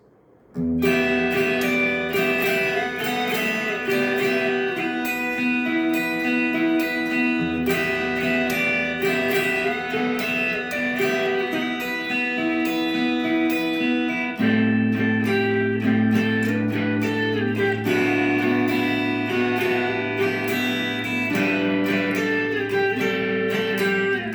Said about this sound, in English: You've learned how to play the chord progression.